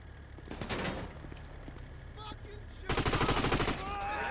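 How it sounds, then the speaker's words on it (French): Rapid automatic gunfire from the game GTA 5, a dense burst of shots near the end, with earlier scattered shots and game ambience; a man reacts aloud nearby. "il me tire dessus"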